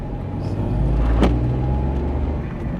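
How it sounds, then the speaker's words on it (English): Turbo blow-off valve on a 2021 VW Polo Vivo GT, a single sharp hiss bursting out about midway over steady car cabin engine rumble and road noise. "Oh, that blow-off sound."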